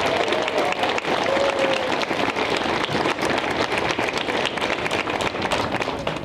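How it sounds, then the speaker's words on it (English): A school audience at a high school spring concert finale claps and cheers for its percussion director and staff, a dense, continuous wash of applause with no gaps. "So big round of applause for Jay Good and Todd Betts."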